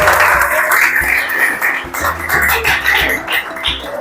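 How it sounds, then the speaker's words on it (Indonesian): Applause from children in a school classroom lab, a few seconds of scattered, uneven clapping at close range with some voices mixed in. "Tepuk tangan buat semuanya."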